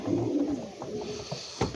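Pigeons coo in a loft while birds are being vaccinated: a low, throaty rolling coo up close at the start, followed by softer, scattered coos and light movement noises, with no talking.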